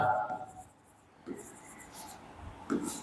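A pen writing on paper or a board during a chemistry lesson, short scratchy strokes coming in bursts at close range, with a teacher's voice talking in places.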